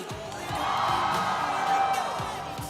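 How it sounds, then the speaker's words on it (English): A crowd cheers and whoops together at an Honor of Kings esports tournament final, a sustained swell of voices that rises and then fades slightly, with scattered shouts. "Give yourselves a round of applause."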